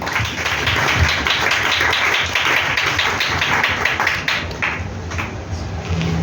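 Congregation clapping together in a church service acclaiming Jesus, a dense, steady wash of hands sustained for several seconds, fairly loud and continuous with no speech on top.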